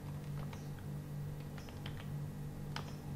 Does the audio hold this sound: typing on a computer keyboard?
yes